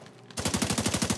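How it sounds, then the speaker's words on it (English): Rapid automatic gunfire erupts in The Division 2 after a quiet start, a loud, close, evenly spaced burst of shots continuing to the end. "I hear some gunshots over here"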